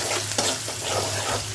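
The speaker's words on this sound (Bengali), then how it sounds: "এই যে মাছ ভাজা হয়ে গেছে, এখন তরকারিটা বসিয়ে দিলাম" Curry set on the pan right after fish frying, with spice paste being sautéed in hot oil before eggplant goes in: a steady, busy sizzle with scraping stirring strokes running throughout, close and moderately loud, no talking.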